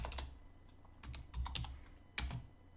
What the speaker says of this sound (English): So what I have to do here is type in